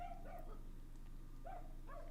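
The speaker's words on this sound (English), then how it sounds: "Sorry if you can hear a dog in the background." A dog somewhere in the background, with a couple of short whimpering yips heard faintly over a steady low hum.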